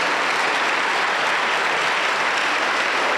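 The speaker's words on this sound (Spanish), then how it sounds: "Voy a pedir un fuerte aplauso para el Señor Jesús" A Pentecostal church congregation in Junín, Peru applauds loudly, a thick, continuous roar of many hands clapping together at steady intensity throughout, with no speech above it.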